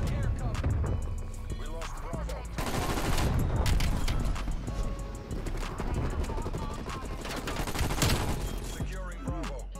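Heavy automatic gunfire and impacts from an aerial strafe run in the shooter game Call of Duty: Cold War, rattling in dense, rapid bursts for several seconds with explosive thumps, loud and continuous under occasional speech.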